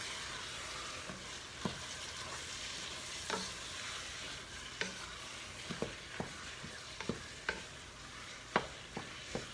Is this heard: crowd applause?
no